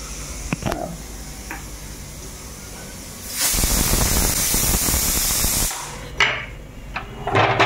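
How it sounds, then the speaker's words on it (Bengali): A pressure cooker with jackfruit inside lets out a loud, steady steam whistle and hiss lasting a couple of seconds. Quieter kitchen knocks come before and after it. "একটা সিটি পড়লো, নামিয়ে দিই"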